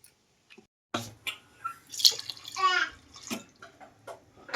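Water is poured and splashes in several short bursts close by, with brief quiet gaps between pours, as overnight soaking water is drained and fresh water added in a cooker for chicken haleem.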